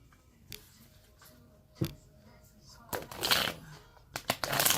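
Tarot cards being shuffled by hand, a few soft riffling bursts early on, then denser, louder shuffling toward the end, close and alone without talk.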